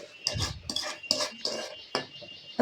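A metal spoon stirring semolina (rava) into hot water in a pot for kesaribath, giving several close, distinct scraping clinks at an irregular rhythm, with no talk.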